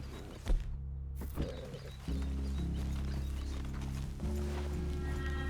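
Horse hooves in the Western video game Red Dead Redemption 2: a couple of clopping steps near the start, then a steady low in-game ambient hum carries on with no voices.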